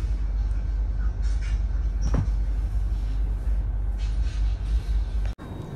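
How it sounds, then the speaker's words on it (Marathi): An express train, number 16594, pulls in at platform 1 of Parli Vaijnath station, giving a steady, loud low rumble with faint metallic squeals, and no voices. "या ठिकाणी प्लॅटफॉर्म नंबर 1वरच आपली ट्रेन आलेली आहे"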